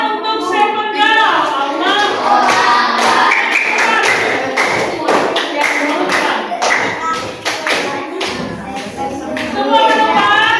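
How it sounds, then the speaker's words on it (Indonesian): A primary-school class gives a girls' group a round of clapping in a classroom, a dense, steady patter of many hands with some thumps and a few voices mixed in throughout. "silakan kita beri tepuk tangan untuk Seven Girl"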